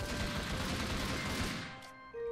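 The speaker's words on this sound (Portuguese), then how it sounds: "eu vi que o tiro foi seu, não foi meu" Gunfire in a Minecraft game, a dense, unbroken burst of shots from a cartoon weapon that rings loud and close, then cuts off near the end.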